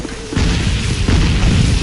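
A bomb blast in an online war video game, a loud booming explosion with heavy rumbling debris that fills the whole moment, no voices over it.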